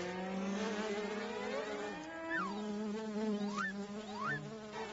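A bee buzzes steadily close by, its droning pitch rising and falling as it moves around, with a few quick sweeping swoops, and no voices.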